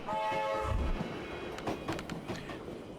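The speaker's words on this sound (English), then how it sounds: "Militia supply train southbound" Southbound militia supply train in Tactical Breach Wizards rumbling past with steady rail noise, a sustained horn-like tone at the start fading as it goes, heard alone without speech.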